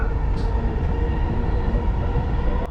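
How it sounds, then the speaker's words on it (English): Steady interior rumble of a Dubai Metro train in motion, a constant low roar with rail hum throughout, loud and close, ending in a brief sharp click. "I am on the Dubai Metro."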